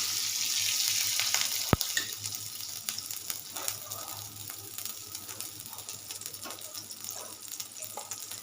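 Butter sizzling in a pan while cooking butter chicken: a quiet, steady frying hiss with small crackles, one sharp knock early on, and no speech.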